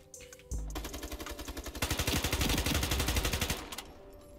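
Rapid automatic SMG fire in the shooter game Ironsight, a sustained burst of fast, evenly spaced shots lasting a few seconds after a brief pause, then trailing off.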